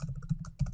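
Fingers type Python code on a computer keyboard, a quick run of soft, close keystroke clicks in steady rhythm, quiet and without speech.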